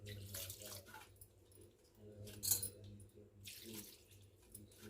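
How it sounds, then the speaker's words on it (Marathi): Faint splashing and running water in bursts as bitter gourds are rinsed with cold water, quiet and close. "आता आपण साईडला घेऊन त्यांना थंड पाण्याने थोडंसं धुवून घेणार आहे"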